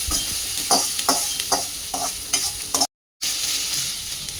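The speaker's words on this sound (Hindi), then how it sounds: "बस इसे हल्का सा सौटे कर कर निकाल लेंगे।" Vegetables including peppers are lightly sautéed in a wok for an Indo-Chinese chicken pasta, a steady close sizzle broken by rhythmic tossing and stirring scrapes, with a brief gap of silence near the end.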